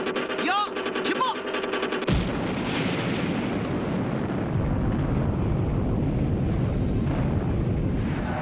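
China's first atomic bomb test at Lop Nur in 1964 erupts as a sudden, massive, sustained roar that rumbles on loudly and continuously after a short stretch of earlier noise and tones.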